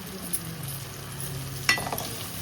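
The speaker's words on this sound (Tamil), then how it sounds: "வெங்காயம் தக்காளி நல்லா வதங்கிடுச்சு." Onion and tomato sautéing in a pan for a Tamil fish gravy with salt and chili powder, giving a steady soft frying hiss with one brief clink of a utensil partway through.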